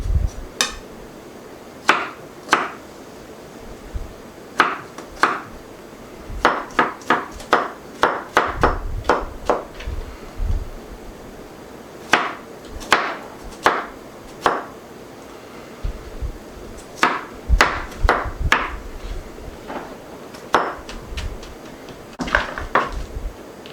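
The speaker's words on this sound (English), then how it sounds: "I'm just going to chop these up really fine." A knife chops garlic finely on a cutting board in a home kitchen, sharp close taps arriving in quick irregular bursts with brief pauses between runs.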